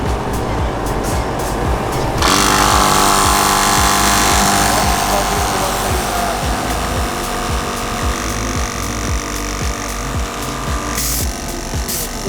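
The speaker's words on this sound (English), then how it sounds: "Air compressor, basically back up the road pressure." A portable air compressor pumps tyres back up to road pressure after driving on sand on an Australian off-road safari, giving a steady loud motorised drone close by, with wind noise and brief talk.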